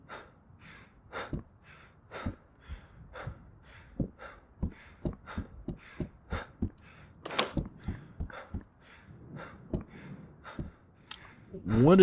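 The player character in Road to Vostok breathes heavily in rapid rhythmic gasps, each inhale and exhale distinct and close, continuing for about twelve seconds.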